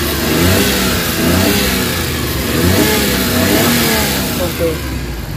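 A Suzuki K6A engine revs steadily with a rough, rising and falling mid-range roar, loud and close, with a voice faintly mixed in.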